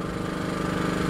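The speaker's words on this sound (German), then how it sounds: "Stichsäge," A handheld jigsaw cuts out an opening for a fireproof wall pass-through, giving a continuous buzzing motor whine with a rapid, even rhythmic chatter from the blade.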